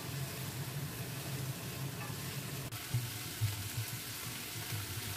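Tomatoes fry in a pan with onion, garlic and ginger, giving a steady low sizzle and crackle that continues for several seconds, faint and fairly even, with no talking.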